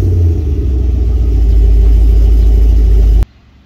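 A Chevrolet Camaro rolls slowly into a garage, its engine a loud, close, steady low rumble that cuts off abruptly near the end.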